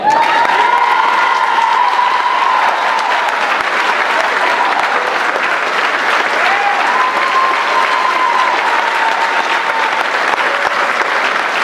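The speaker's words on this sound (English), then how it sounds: "can we please give a round of applause to Evan Goyette" A large graduation audience for the class of 2023 gives a loud, sustained round of applause for a speaker, dense and continuous throughout, with a few faint whoops and voices rising above the clapping.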